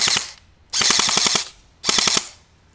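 A JG M4A1 airsoft carbine rattles off two rapid full-auto bursts, each a fast, loud string of sharp snaps. A short pause separates the bursts, and a brief shot comes before them.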